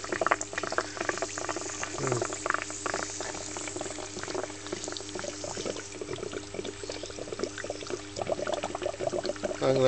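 An HHO dry cell churns out gas, producing vigorous, continuous bubbling and fizzing like boiling water, close and steady throughout with small surges of gurgling.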